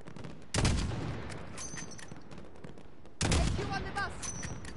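Two loud bursts of gunfire in the Modern Warfare campaign video game, each a sharp crack followed by ringing decay and debris, with game noise between them.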